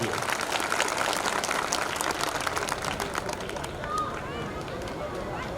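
At a Bharatiya Janata Party workers' rally in Mira Bhayandar, a crowd applauds steadily and densely, and the clapping thins slightly toward the end while a murmur of voices carries underneath.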